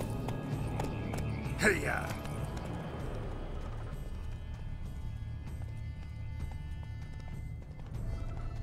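Roach the horse galloping in Witcher 3, a steady fast clip-clop of hooves on a dirt road with a brief neigh, continuous and close under a rider's short shout.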